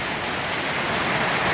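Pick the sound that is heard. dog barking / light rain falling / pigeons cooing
light rain falling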